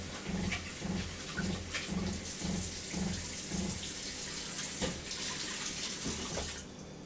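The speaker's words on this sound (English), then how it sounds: "I'm gonna wash out the pot that we cook our" Tap water runs into a kitchen sink to wash out a stock pot, a steady close splashing rush with rhythmic sloshing and knocking as the pot is rinsed, then the flow stops near the end.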